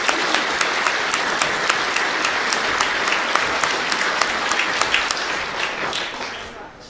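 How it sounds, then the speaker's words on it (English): Applause fills the hall at the 2023 ODT Class Act school awards ceremony for an absent student whose school accepts on her behalf: dense, even clapping from a sizeable audience, sustained and fairly loud before tapering off at the end. "Give her a round of applause"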